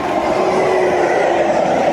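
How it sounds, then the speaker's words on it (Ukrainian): A red-striped high-speed train passing by in Italy near the beach, a loud, steady rushing roar with a faint rail hum, close and unbroken throughout with no voices. "Скоріше всього це швидкісний потяг."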